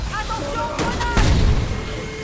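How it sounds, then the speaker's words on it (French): A grenade explodes in the Warface shooter game as a short, heavy boom with a deep rumbling tail. It follows a sharp crack and sits under game effects and a tonal hum. "Attention, grenade!"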